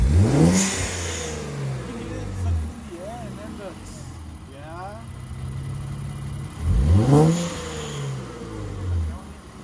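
Infiniti Q60 Red Sport fitted with an HKS blow-off valve, revved twice in close succession; each sharp rising engine rev ends in a whooshing release, with quieter engine burble between the two bursts and voices faintly underneath.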